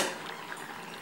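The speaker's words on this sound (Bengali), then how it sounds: "ঢাকনাটা খুলে দেখি বন্ধুরা, দু তিন মিনিট হয়ে গেছে" A lid lifted off a pot of pumpkin kofta curry that has simmered covered for a few minutes, giving a steady close bubbling hiss with a light metallic clink at the start.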